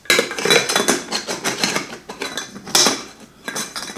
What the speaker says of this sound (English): You got another pot with a lid, and you have two cups, a wooden spoon, and a scouring pad for cleaning.